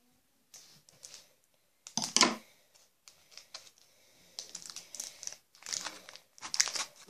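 Crinkly foil wrapping of a Pokémon trading card pack is tugged and torn by hand in several bursts, loud crackling rustles coming close up with short pauses between.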